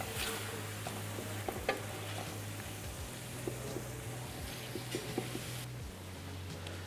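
Sizzling and scraping as a Greek dish is stirred with spices in a pan, a steady hiss of frying with soft clicks of a spoon against the metal, fairly faint and with nobody talking.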